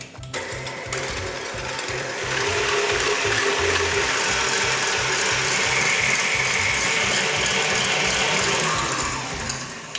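A stand mixer whips eggs and caster sugar in its bowl, a steady loud mechanical whir with a rapid rhythmic beat that rises in intensity after the first couple of seconds and runs without pause.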